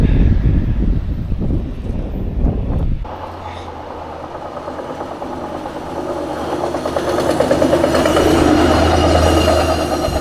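Rumbling noise of a passing coal train with rattling wheels and wind buffeting the microphone, loud and close, building steadily toward the end.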